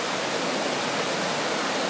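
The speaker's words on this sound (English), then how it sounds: "You can hear the roar of the waterfall." Roar of the waterfall at Jajce, a dense, steady broadband rush of falling water, loud and unbroken across the short stretch with no voices over it.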